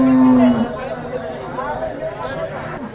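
A cow moos once, loud and near, at a busy cattle market in Sangola, followed by faint crowd chatter and voices in the background.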